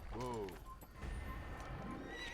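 A horse in the video game Assassin's Creed whinnies loudly, its neigh rising and falling over about half a second, followed by hoofbeats and game noise while people talk excitedly.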